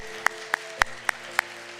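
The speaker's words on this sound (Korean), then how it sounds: "귀한 말씀 주신 목사님께 우리 감사의 박수 드릴게요." A congregation claps for the pastor at the close of a church worship service, five sharp claps spaced evenly in a short burst against a quiet room.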